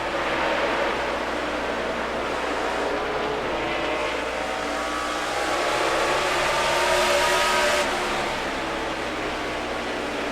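In-car audio from a 2007 NASCAR Nextel Cup race car at the Sharpie 500 during a restart, with a loud, steady engine roar that swells slightly midway and holds throughout.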